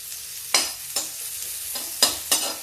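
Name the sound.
onion frying in oil with cumin and asafoetida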